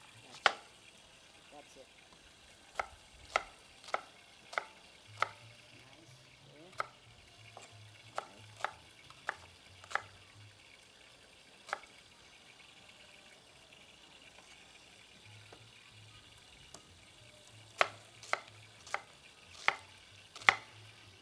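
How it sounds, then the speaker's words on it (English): A knife chops an onion on a cutting board, sharp separate knocks in short bursts with pauses, near and fairly clear, with a faint voice briefly speaking and a low murmur between the chops. "I'm going to chop an onion"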